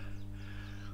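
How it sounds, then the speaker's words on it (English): Steady low electrical hum from an electricity substation beside a railway line near Dunbridge in Hampshire, a constant drone heard outdoors with faint background noise. "So that humming noise you can hear is obviously that electricity station there."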